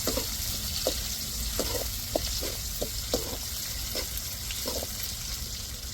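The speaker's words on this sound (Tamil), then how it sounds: "வெங்காயம் நல்லா பொன் நிறமாக வரத்தடிக்கு நல்லா வதக்கிக்கிடுவோம்" Onions sautéing in a pan for a Tamil goat brain fry, a steady broadband sizzle with a few soft scraping stirs, close and continuous, no talk.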